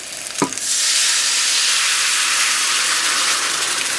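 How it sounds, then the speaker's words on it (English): Orange sauce marinade poured into a hot pan of pork chops bursts into a loud, close, continuous sizzle and hiss after a brief splash, steady and alone with no talking. "Now I'm going to add the marinade. We're going to cook this in the marinade."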